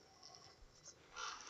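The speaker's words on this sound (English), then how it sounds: "The crow in the background." A crow caws somewhat faintly in the background outdoors near a rocky RC trail course, two or three hoarse calls in the open air.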